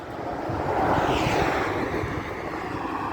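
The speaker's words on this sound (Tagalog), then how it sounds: "Hangin lang yan." Strong wind rushes and buffets steadily during a bicycle ride, a broad roar with gusty swells and no voices.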